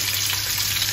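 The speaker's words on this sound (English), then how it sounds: "And there, I'm frying a few of the horse mackerel" Horse mackerel frying in a pan with green tomatoes nearby, giving a steady, close, unbroken sizzle with a low hum underneath and no voices.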